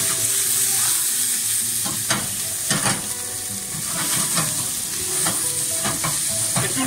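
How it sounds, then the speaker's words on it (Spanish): Prawns, ginger and vegetables with chili sizzle steadily as they are sautéed and stirred in a hot pan, with scraping clatters of the utensil against the pan breaking through the continuous frying hiss. "y salteamos"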